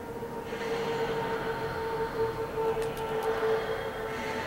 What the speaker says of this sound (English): And a train just pulled in.